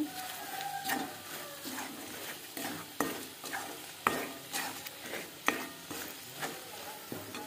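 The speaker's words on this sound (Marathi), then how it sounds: "मसाला तेलामध्ये छान होऊ द्यायचा" Masala sizzling in oil in a pan while a spoon stirs it, for a Vidarbha-style village chicken curry; soft crackling runs underneath repeated scraping strokes that knock against the pan at an uneven pace.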